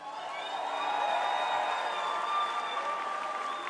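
Audience applause at a Slovácko verbuňk folk dance competition final, sustained crowd clapping with a few whoops and cheers, steady and moderately loud throughout.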